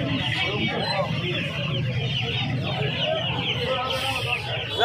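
Country chickens cluck and murmur in a continuous crowded chorus at Uluberia hen market, close and lively, while people talk amid the busy stalls.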